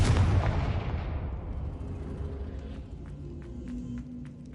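A Confringo blasting spell in Hogwarts Legacy goes off with a loud, booming explosion up front that rumbles and fades over a few seconds, leaving faint scattered crackles behind.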